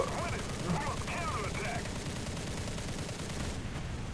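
A Ki-43 Hayabusa's machine guns fire in War Thunder with a steady, rattling stream of shots under continuous engine roar, while someone talks over it.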